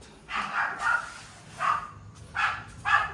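A dog barks in front of a person out on an early-morning bike ride in the Philippines, about five loud, close barks in irregular bursts with no talking.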